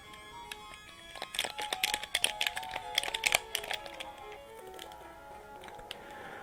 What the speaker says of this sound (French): Ok, alors j'ai trouvé la touche, elle est sur mon clavier.